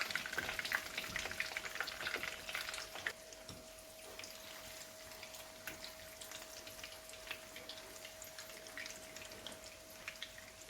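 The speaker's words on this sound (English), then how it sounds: "I'll start frying the yam now." Continuous crackling sizzle of egg-coated yam frying in hot oil, busier at first then settling into a steady spatter, with a faint steady hum.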